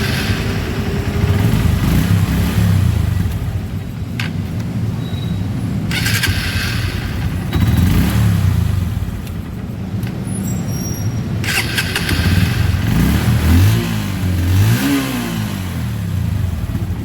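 A Honda Verza 150 motorcycle, just repaired for a starter that only clicked, cranks on its starter motor several times and its engine runs up and revs between starts, loud and close with no talk.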